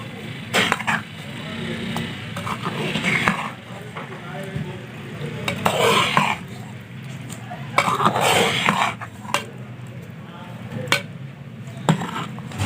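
A spoon scrapes and stirs chicken keema with green coriander in a pan, in irregular clattering bursts over a low sizzle, with a voice talking at times.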